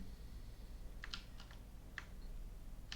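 Code is typed on a computer keyboard during Raspberry Pi Pico programming: a few quiet, close keystrokes in small clusters over a low background hum.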